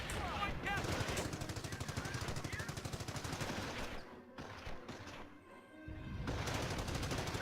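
Rapid bursts of machine-gun and rifle fire in the Company of Heroes war game, dense and loud, easing to a quieter gap before resuming, with voices in the mix.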